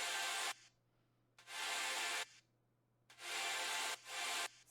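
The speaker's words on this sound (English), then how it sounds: "It's just a sample pad." Distorted synth pad sample from a Norco sample pack, heard alone as four harsh, noisy bursts of sustained sound separated by short silences.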